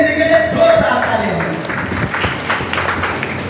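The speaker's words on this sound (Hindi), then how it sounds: "जोरदार तालियां" A seminar audience breaks into applause, a dense patter of many hands clapping that builds after a brief voice at the start and carries on steadily.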